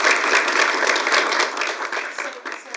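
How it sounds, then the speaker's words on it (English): A school board meeting audience applauds, a dense, steady patter of many hands clapping at close range that thins slightly toward the end, with no voices on top. "Let's give them a round of applause."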